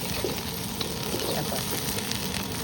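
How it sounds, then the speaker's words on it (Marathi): Raw papaya with spices and dried red chillies sautéing in oil in a pan, a dense continuous sizzle and crackle held at close range and even loudness, with a little stirring. "चांगली परतून घ्यायची आहे त्यात मी लाल वेगळी मिरचीची पण दोन टाकणार आहे"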